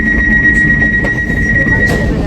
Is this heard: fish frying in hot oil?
no